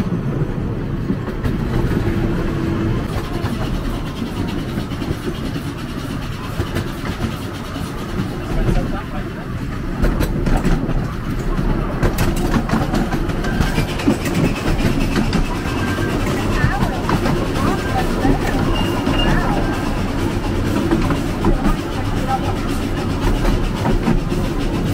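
Steady rumble of a small heritage train ride through gardens at a steam museum, with rolling wheel noise and clatter throughout, voices murmuring faintly underneath.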